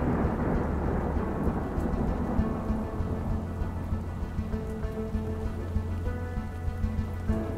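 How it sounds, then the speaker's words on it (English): A thunderstorm with steady heavy rain and a long rolling rumble of thunder that fades, followed by continuous patter of raindrops on a surface. "One day, a thunderstorm is rising."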